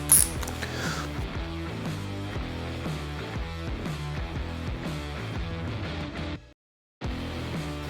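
Exhaust muffler bolts on a 2022 Harley-Davidson Low Rider ST are loosened with a ratchet, giving steady rapid close clicking and creaking broken by a brief silent gap near the end.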